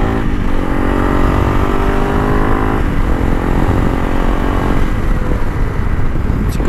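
A Honda CRF300 Rally motorcycle ridden hard, its single-cylinder engine droning loud and close with rising and falling revs over wind and road rumble.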